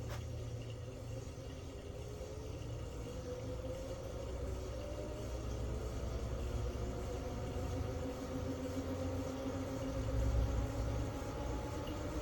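A Jeep CJ-7 converted to electric drive rolls along at about 17 mph in two-wheel drive, with a low steady rumble and a faint rising whine. No one speaks.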